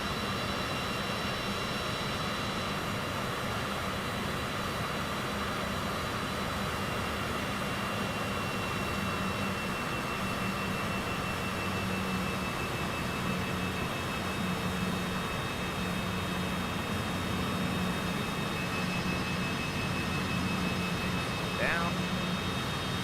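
A steady jet airliner engine drone with a high whine hums through a taxi in Microsoft Flight Simulator 2024. It stays constant and moderately loud, with voices talking over it.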